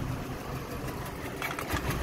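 A 2005 VW Golf mk5 1.6 engine idles roughly with the heater off, a steady close mechanical hum with uneven stuttering and slight surges throughout.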